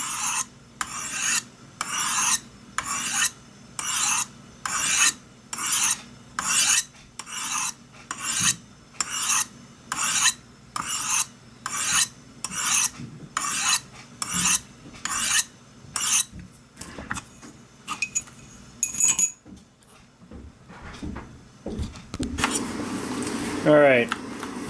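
Knife blade drawn across Spyderco Sharpmaker stones with light pressure: a steady run of about a dozen rhythmic rasping strokes, close and clear, then scattered scraping and handling clatter near the end.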